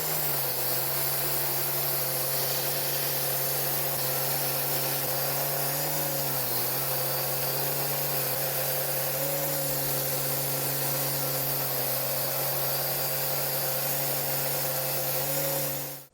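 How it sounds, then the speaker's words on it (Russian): A belt grinder shapes a wooden knife handle with a loud, continuous motor whine and abrasive hiss up close, its pitch dipping slightly now and then as pressure changes, then cutting off at the very end. "Вот, например, тот же самый гриндер, да,"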